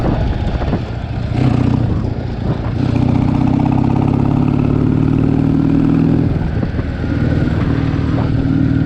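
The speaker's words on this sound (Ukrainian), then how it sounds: "Так, щось мені не подобається карбуратори, як працюють." A motorcycle engine with poorly running carburetors idles close by, loud and uneven, with a slightly irregular rumble and brief rises and dips in revs across several seconds and no talking over it.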